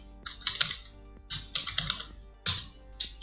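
Quick bursts of clicky computer keyboard typing while writing CSS code, in three close clusters of rapid keystrokes separated by short pauses, with no voices.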